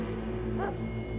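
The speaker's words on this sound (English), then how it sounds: "hear a dog barking" A dog behind a house door gives one short, whimpering yip midway through, moderately close above a steady low hum.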